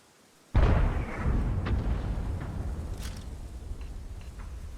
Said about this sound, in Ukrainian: Артилерія б'є, хтось пересвічує.